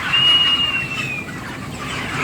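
Young chicks in a poultry brooding house bedded on rice husk give a sustained high peep, followed by softer scattered cheeping over a low background hum.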